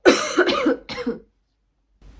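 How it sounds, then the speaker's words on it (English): A few harsh coughs in quick succession, loud and close, followed by a brief silence and a faint rustle. "This cough sounds not so good."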